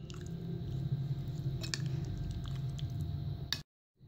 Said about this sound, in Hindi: हम आटा गूंद लेंगे पराठा बनाने के लिए।